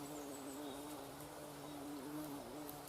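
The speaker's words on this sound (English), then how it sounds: "Go away, bee." A bee buzzes steadily and close by outdoors beside a campfire-lighting spot, a faint continuous drone with a slight wavering pitch and no talk.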